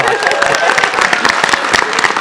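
A live convention audience at a PAX East panel on Nintendo DS games applauds loudly and steadily, dense clapping filling the room with a few voices mixed in.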